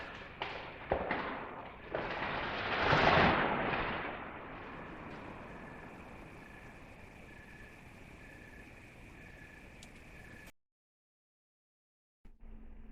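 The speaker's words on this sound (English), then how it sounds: "So what you heard there was a tree falling over." A tree falls at a distant campsite, heard as a few faint cracks and then a soft, rushing crash that swells and fades into quiet woodland ambience before a short silence.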